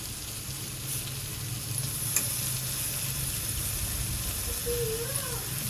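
Constant sizzle of ivy gourd cooking in a pan, with a faint clink of a utensil and a distant brief whistle-like tone near the end.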